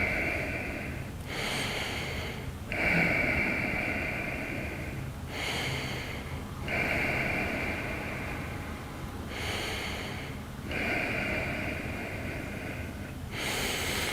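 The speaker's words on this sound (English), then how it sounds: "Take 5 breaths." Slow, deep breaths taken while holding a yoga stretch for the legs and hips, each long inhale and exhale rising and falling in a steady rhythm, close and fairly quiet with no talking.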